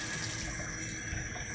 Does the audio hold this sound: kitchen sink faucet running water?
yes